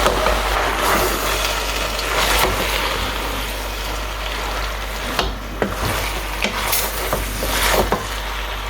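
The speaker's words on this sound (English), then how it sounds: "I'm going to go in with my pasta now, spaghetti. Now mix everything." Spaghetti and other ingredients are stirred together in a cooking pot, giving steady, close sizzling and scraping with occasional sharper clinks and knocks from the utensil, and no talk.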